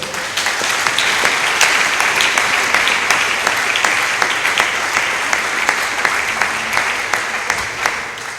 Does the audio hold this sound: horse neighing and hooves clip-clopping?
no